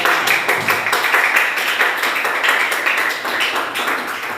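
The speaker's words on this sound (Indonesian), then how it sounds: "Tepuk tangan dulu." A physics class breaks into applause, a close, dense patter of many hands clapping continuously for a few seconds and fading slightly toward the end, with no talk over it.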